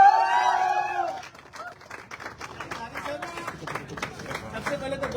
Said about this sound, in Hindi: तो एक जोरदार तालियां हमारे सफाई लीडर चंद्रधारी राजभर सर के लिए।